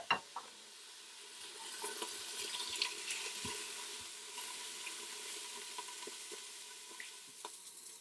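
Onions fry and soften in a multicooker with a soft, continuous sizzle, faint and close, broken by a few light scrapes and taps of stirring.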